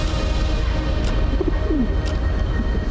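A pigeon coos softly on high Himalayan snow, a few faint low calls under steady wind-like background noise, with no talk.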